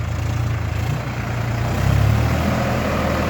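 The low, steady diesel engine of a Solis 50 tractor (50 horsepower) idles close by, a deep rumble that swells slightly partway through, with no voices.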